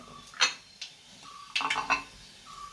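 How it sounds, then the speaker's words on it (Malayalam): Grated coconut being mixed with shallots, green chili, curry leaves and salt in a bowl, a few light knocks and clinks close by with quiet gaps between them. "തേങ്ങ, ചെറിയുള്ളി, പച്ചമുളക്, കറിവേപ്പില ഇതെല്ലാം കൂടി നമുക്ക് ഈ തേങ്ങയ്ക്കകത്തോട്ട് ഇട്ട് കൊടുത്ത് നമുക്കിതൊന്ന് ഉപ്പും കൂടെ ഇട്ടൊന്ന് മിക്സ് ചെയ്ത് കൊടുക്കാം"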